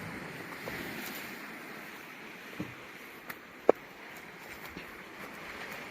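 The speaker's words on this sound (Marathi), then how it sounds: "आणि आहे द्वीचा समुद्र किनारा." Sea waves wash onto Hedvi beach with a low, steady wind-blown rumble, faint and distant, broken by a few brief sharp knocks, with no one talking.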